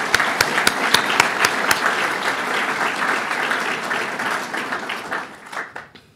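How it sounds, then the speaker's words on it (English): An audience at a New York State broadband policy event breaks into applause, opening with a few sharp distinct claps that merge into dense steady clapping before it thins and fades at the end. "Let's give them a round of applause."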